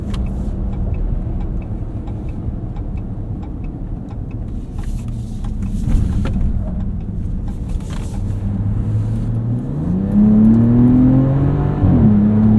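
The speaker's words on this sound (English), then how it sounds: "that's probably my favorite thing about this truck, is just how smooth and refined this powertrain is" The powertrain of a 2025 Ram RHO pickup accelerates in a steady, loud engine drone with road and wind noise, then the engine note rises and sweeps upward as it revs harder near the end.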